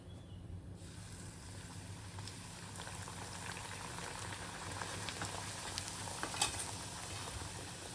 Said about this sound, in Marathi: आता आपण त्यांना गरम तेलामध्ये तळून घेऊ